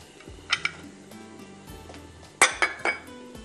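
A knife chops fresh garlic on a board in a kitchen: a few crisp, close taps early on, then a quick burst of three clinking knocks, over a low humming background.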